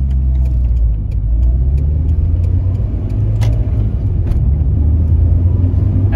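A 1995 Renault Clio RSI with its 1.8 litre engine drives along, a steady close rumble of engine and road noise that holds through the clip with no talk.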